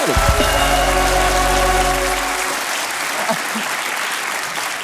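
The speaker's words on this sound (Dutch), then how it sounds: "applaus voor de Duitse jongen" A Dutch TV studio audience breaks into loud, sustained applause for a German boy, steady clapping over a low tonal hum that fades in the first couple of seconds.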